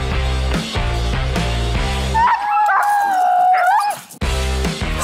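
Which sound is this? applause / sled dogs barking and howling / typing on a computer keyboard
sled dogs barking and howling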